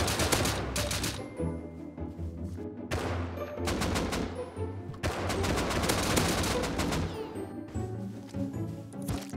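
Automated turret gunfire in the survival game Rust, rapid sustained bursts of shots hammering in long volleys with short pauses between, loud and close, with no voices over it.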